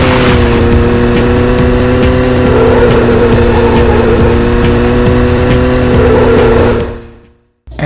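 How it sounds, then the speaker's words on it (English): Continuous droning engine whine of racing cars from the PlayStation game All Star Racing, a harsh, buzzing synthesized tone held loud and steady for several seconds before cutting off abruptly. "the car audio is not pleasant to listen to"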